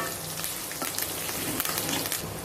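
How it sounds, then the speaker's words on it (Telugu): Onion pieces fry in hot oil with dried red chillies and curry leaves for a fish curry, giving a steady, close crackling sizzle with no pauses or voices. "ఉల్లిపాయ ముక్కల్ని కొద్దిసేపు ఒక 2 నిమిషాలు ఫ్రై చేసుకోవాలి"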